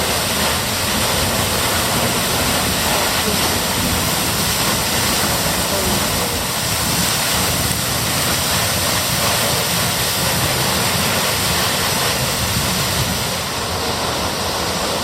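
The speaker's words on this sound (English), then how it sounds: "That's us right underneath the waterfall." A 100-foot single-drop waterfall thundering inside a huge cavern in the Yorkshire Dales, heard from directly underneath as a loud, unbroken broadband roar that holds steady throughout with no voices.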